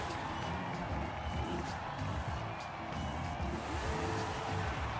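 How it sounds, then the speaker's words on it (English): A racing car engine in the video game Forza Horizon 5 drones steadily, with a faint background roar like a distant crowd. "Listening to your car, I have the exact same engine in my Cadillac."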